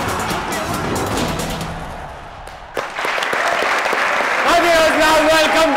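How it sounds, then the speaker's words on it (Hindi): A studio audience at a comedy game show breaks into loud, sustained applause, which dips briefly before swelling again as a voice speaks over the clapping. "तालियां।"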